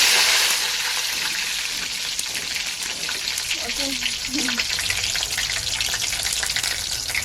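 Fenugreek seeds fry in hot oil as the base of a fish curry with mango, giving a steady, close sizzle that runs the whole time with a few soft stirring sounds and no talk.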